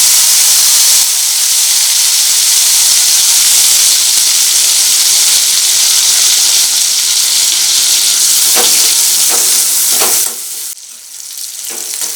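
Dried prawns with turmeric frying in hot oil, a loud dense hiss and sizzle that runs steadily, then dips and thins out near the end with a few stirring knocks.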